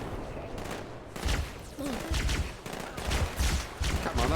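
Rapid gunfire and explosive bursts from the video game Halo 2 sound as a dense fusillade of shots, with repeated loud cracks and volleys filling the whole stretch and a voice partly mixed in.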